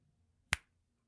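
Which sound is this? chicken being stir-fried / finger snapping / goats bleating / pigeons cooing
finger snapping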